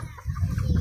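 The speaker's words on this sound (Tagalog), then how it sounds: "Ang daming manok." Chickens cluck in a yard, several birds close by making a short burst of low, busy clucking.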